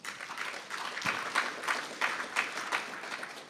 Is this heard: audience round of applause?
yes